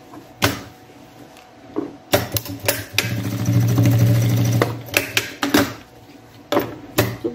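Sewing machine running a topstitch on a men's shoulder bag, a steady mechanical whirring burst in the middle flanked by clicks and handling knocks, close and fairly quiet.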